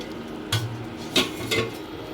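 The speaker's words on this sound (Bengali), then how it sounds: "এবার আমি ঢাকনাটা খুলে দেখে নেব কতটা হয়েছে" A metal pot lid is lifted and set down while raw mango chutney with jaggery cooks, three short clanking knocks over a faint background hiss.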